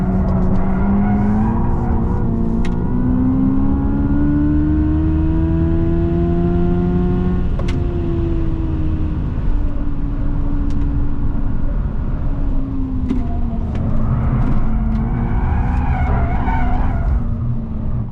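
Hyundai IONIQ 5 N electric car drifting with all four tyres smoking, a long continuous tyre squeal with the electric drive whine rising and falling, loud and close throughout.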